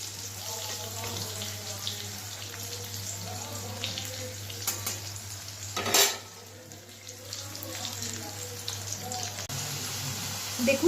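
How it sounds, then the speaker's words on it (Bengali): Steady frying sizzle with a constant hum underneath, a brief louder clatter in the middle, continuing evenly throughout. "আলুগুলোকে দিয়ে দিলাম আলুগুলো একটু লাল লাল করে ভেজে নেবো"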